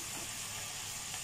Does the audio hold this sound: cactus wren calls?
no